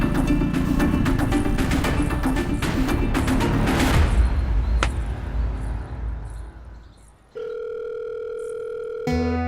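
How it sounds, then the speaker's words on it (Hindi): A telephone rings unanswered at night, a steady electronic dial-tone-like tone entering after heavy background clatter fades. The tone holds loud and unbroken for the final seconds, with no voices. "फोन तो उठा लो"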